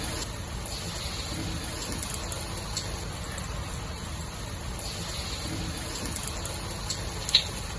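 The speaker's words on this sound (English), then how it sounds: "For the prawns, hold the tail and put them in so they are straightened." Battered prawns for tempura sizzle in hot oil with a steady, soft crackling hiss, held by the tail as they go in, continuous and close with one brief sharper pop near the end.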